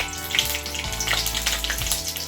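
Bay leaf, green chillies, ginger and whole cumin frying in hot oil for a Bengal village-style tempering, a steady close, loud crackling sizzle throughout with sharp spattering pops and no voices.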